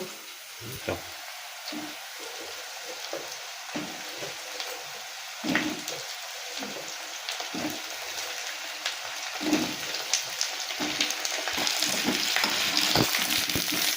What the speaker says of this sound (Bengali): পেঁয়াজটা একটু ভাজা হবে তারপর আমি এতে আলুগুলো দিয়ে ভালো করে লাল লাল করে ভেজে নেবো